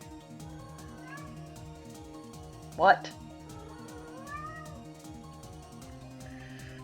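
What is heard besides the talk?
kitten meowing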